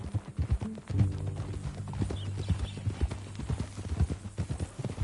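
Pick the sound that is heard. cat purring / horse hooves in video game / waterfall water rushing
horse hooves in video game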